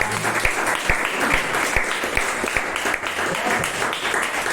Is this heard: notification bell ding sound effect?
no